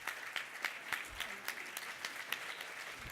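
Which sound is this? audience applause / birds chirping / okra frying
audience applause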